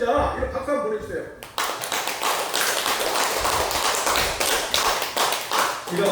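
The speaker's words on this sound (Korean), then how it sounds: "이런 박수 한번 보내주세요" A church congregation at a sermon breaks into loud, dense clapping after a brief spoken line, the applause continuing steadily and close for several seconds.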